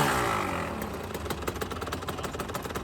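A KTM 300 EXC two-stroke dirt bike engine settling into idle after starting, a rapid uneven putter of close firing pulses that drops from an initial rev, heard near and alone.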